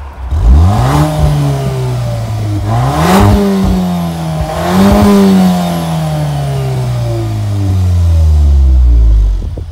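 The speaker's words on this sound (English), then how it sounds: "So we're in neutral. I'll give you the display on here. No, it revs right through." A Volkswagen Tiguan R SUV engine revs hard in neutral several times, pitch climbing and falling with each blip, then holds a high, steady rev; loud and close, no talking.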